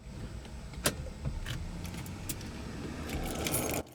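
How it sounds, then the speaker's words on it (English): A car's steering wheel is pulled to the right with the key out of the ignition until the column lock engages. Nearby clicks and a sharp metallic clack come over a low interior hum, with a few lighter taps after. "pull the steering wheel down to the right until it locks"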